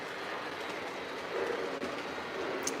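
A Lionel model train runs on Fast Track laid over a carpet, giving a steady, fairly loud rolling rumble with faint rhythmic clatter throughout and a brief squeal near the end.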